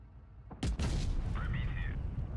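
A single heavy tank cannon shot booms out in Tanks Blitz, a loud sudden blast with a sustained rumbling tail, followed by a short whistling mechanical tone as the reload begins.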